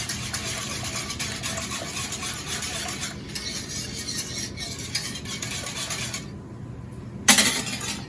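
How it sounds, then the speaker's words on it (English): A whisk beats yogurt starter into milk, a steady soft swishing and light metallic clatter against the container, pausing near the end before a sharp clink. "Use your whisk. Make sure it all gets mixed in."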